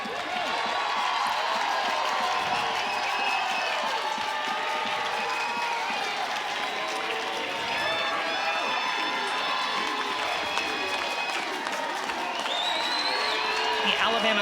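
Loud stadium crowd cheering and shouting at a college softball game at Rhodes Stadium, Alabama fans, a sustained dense roar of voices and whoops throughout.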